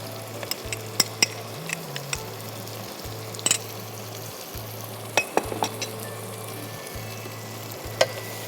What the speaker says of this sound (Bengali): হ্যাঁ, এখন মশলাটা ভালো করে কষিয়ে নিতে হবে।